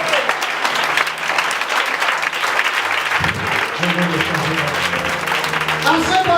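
A church congregation bursts into loud, sustained applause and cheering acclaiming the word of God, the clapping dense and close, with voices shouting and talking through the ovation.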